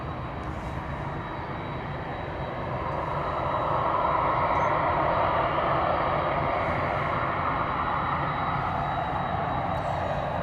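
Ryanair Boeing 737 banking right at London Stansted Airport, a steady jet engine roar that swells louder midway and holds, heard outdoors at some distance.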